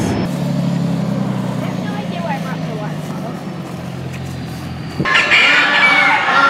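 Chickens cluck and chatter at a farm, irregular calls heard at moderate distance over a steady low engine-like hum, with a sudden louder rushing noise near the end.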